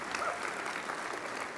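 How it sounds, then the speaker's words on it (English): Brief burst of audience applause at a luncheon event, a short, steady patter of many hands clapping at moderate loudness. "please give them a round of applause"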